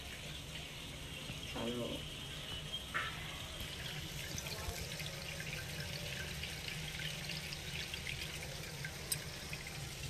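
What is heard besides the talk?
rice being washed in water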